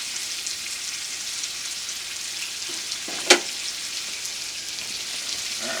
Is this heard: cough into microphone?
no